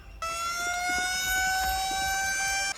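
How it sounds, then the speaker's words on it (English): A steady, high-pitched siren wails continuously, loud and sustained, over low rumbling background noise. "Stop him with your siren, man!"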